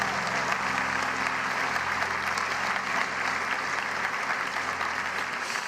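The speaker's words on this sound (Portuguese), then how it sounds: "Dê mais um aplauso ao Senhor neste lugar" A church congregation gives sustained applause to the Lord, a steady wash of many hands clapping at moderate distance, with a faint low hum underneath and no speech for several seconds.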